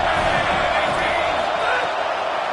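Stadium crowd roaring during a college football video game at a red-zone third down, a dense, loud, sustained wall of cheering and noise with a voice talking over it.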